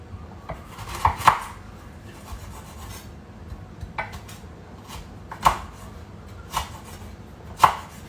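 Kitchen knife slicing galangal and lemongrass on a cutting board, a few irregular, moderately close chopping knocks with soft scraping rubs between them, no talking.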